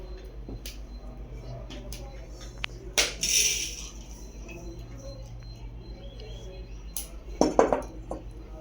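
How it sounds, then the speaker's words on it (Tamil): Roasted cashews moved from a pan onto another plate, a few sharp clinks and scrapes of metal on plate against a quiet low hum, with faint background sounds between. "இதை வேற ஒரு தட்டில் மாற்றிக்கிறேன்."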